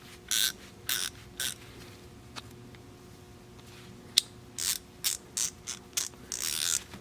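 Wera Black Edition Zyklop Speed Ratchet spun in the reversed direction, a series of short buzzy ratcheting bursts in quick irregular succession, close and fairly quiet, with one sharp click midway.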